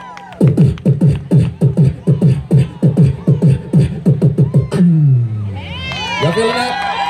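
At the 2016 Lompoc Flower Festival, a beatboxer imitates a kick drum with his voice: a steady run of deep, booming thumps through a microphone, then a crowd cheers and shouts.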